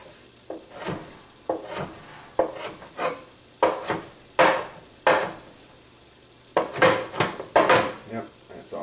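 Knife roughly chopping onions for homemade marinara and meatballs, a run of irregular close thuds and scrapes on a board, with short pauses between bursts.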